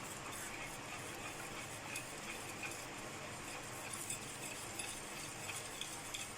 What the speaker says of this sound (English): Put the little milk again and mix